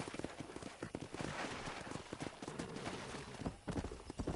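Horse hooves clip-clop steadily at a ride in the Western video game Red Dead Redemption, dense overlapping strikes close and loud, with an occasional snort and no talk.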